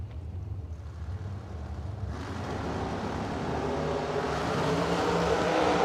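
A Chevy door car making a drag racing pass, its engine roaring steadily and building in intensity as the run goes on, loud and close with no voices.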